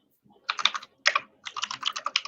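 Computer keyboard typing in bursts of quick, close keystrokes during a Linux command-line session, with brief pauses between clusters of keys and no talking.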